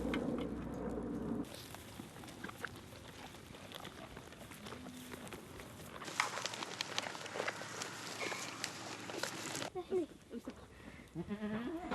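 Goats bleating at a Bedouin household in Israel that raises sixty goats and ten camels, scattered calls amid outdoor bustle, footsteps and background voices.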